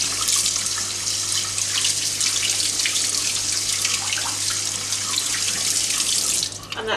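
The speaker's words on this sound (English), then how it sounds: "then I shall wash it through again" Tap water runs steadily through a sieve of quinoa being rinsed, a loud continuous splashing rush that tapers off at the very end.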